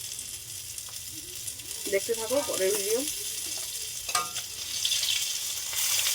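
Fish fries in hot oil with a steady, close sizzle and crackle that bubbles up in bursts, while a voice talks over it.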